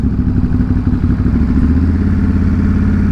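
A motorcycle engine in poor running condition runs steadily nearby, a loud low rumble with a rattling, clattery texture throughout, no speech.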